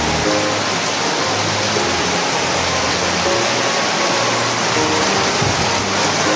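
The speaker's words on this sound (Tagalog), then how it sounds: "lakas na ulan dito guys" Heavy rain falls in a dense, steady roar, loud and close, with no break across the stretch; a low hum sits underneath and no one speaks.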